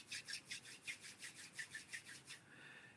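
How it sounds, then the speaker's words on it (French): Two hands rub briskly palm against palm in a quiet room, giving about a dozen soft rhythmic rasping strokes that stop near the end. "Je frotte les 2 mains l'une contre l'autre."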